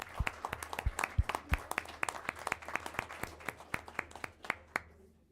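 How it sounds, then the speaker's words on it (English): A small audience at a school board meeting in Hobart claps, each sharp hand clap distinct in a quick, loud, uneven run that tapers off at the end. "Clap it up for him."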